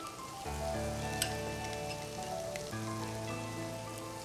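Green chillies and onions frying in a pan with oil, a steady close sizzle and crackle that runs throughout, with a faint musical tone underneath and no speech.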